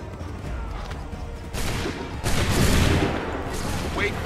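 Musket volley fire in Assassin's Creed III, with two loud broadband crashes of massed shots, the second heavier and rolling on, over a low battlefield rumble.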